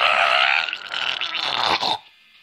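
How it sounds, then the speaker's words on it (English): A loud, raspy, groaning cat-like call voiced by piano cats in a random video game, sustained for about two seconds with a wavering tone before cutting off into quiet. "let's do mating calls of piano cats"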